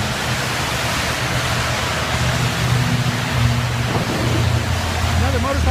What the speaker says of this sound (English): It's lightning and pouring down rain.